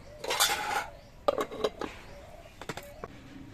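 A dish of rupchanda pomfret fish marinated in salt, turmeric and chilli powder gets covered and set aside in a home kitchen. A few short clinks and clatters of metal utensils and plates sound up close, with pauses between them.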